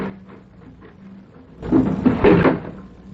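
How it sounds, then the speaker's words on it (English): Doors swung open in an old radio drama, a few soft knocks and shuffles leading into a louder clattering, creaking burst of wood and latch movement that lasts about a second and a half. "Open those doors."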